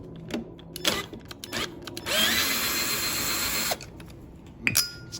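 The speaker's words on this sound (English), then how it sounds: "it's so cold the battery in my drill isn't" A cordless drill with a cold, weak battery whirs in a steady burst of about a second and a half, surrounded by short clicks and handling knocks close by.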